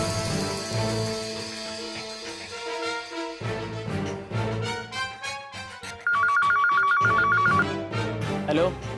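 A telephone rings with a melodic electronic ringtone, repeating a bright tone pattern at close range amid background music in a dramatic scene.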